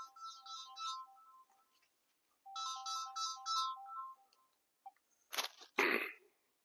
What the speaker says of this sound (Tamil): போன் அடிக்கிறாங்க.